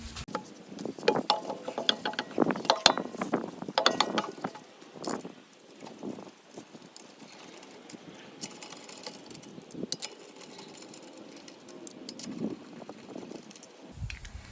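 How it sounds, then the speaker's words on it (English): A socket-set ratchet tightens wheel bolts on a Mk7 VW Golf after a front brake pad and disc change, with close, repeated bursts of clicking and metallic clatter that thin out into quieter, sparse ticks. "it's so much easier putting these wheels on if you use a spanner. Sorry, a socket set like this."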